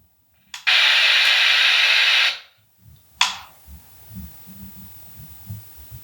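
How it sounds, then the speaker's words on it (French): A Spirit Box ghost-hunting device switched on in a stairwell hisses out a loud, steady band of white noise for nearly two seconds, then cuts off; a short second burst follows, with faint low knocking and rumbles underneath. "la Spirit Box est un appareil qui diffuse du bruit blanc"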